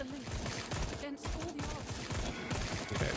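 Gunshots in the horror shooter Sker Ritual, a steady rattle of repeated shots and combat noise running throughout, with a voice speaking over it.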